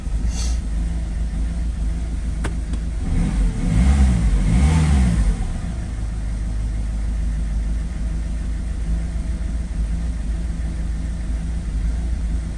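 Citroën Berlingo with a DV6 diesel engine running rough and sputtering, a steady close low rumble that swells briefly with a rev and uneven pulsing before settling back to idle.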